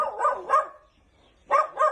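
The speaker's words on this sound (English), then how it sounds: "My neighbor has a dog who constantly barks." A dog barks in four sharp, fairly close barks, two quick ones, a pause, then two more, with no other sound around them.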